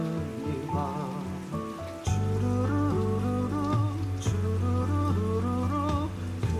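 Rain falls with a steady hiss beneath Korean song music, the melody and sustained notes loud over the continuous patter throughout.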